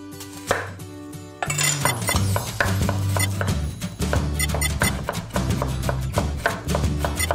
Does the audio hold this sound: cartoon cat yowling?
no